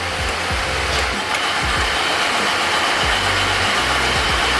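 A C3 Corvette's engine, about 40 years old, runs loud and high at a steady pitch with the battery light off, a constant close-up drone with no voices.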